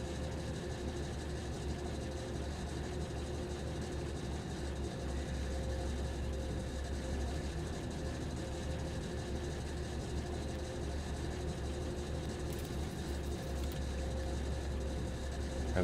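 In the video game RoadCraft, a work vehicle's engine idles with a steady, low, continuous rumble that holds unchanged throughout, with no talk over it.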